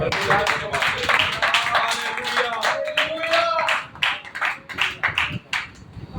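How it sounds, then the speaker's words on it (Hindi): A church congregation claps loudly in a dense, rhythmic burst of hand claps that turns choppier and uneven toward the end, with voices mixed in beneath. "एक बार फिर जोरदार ताली बजा के"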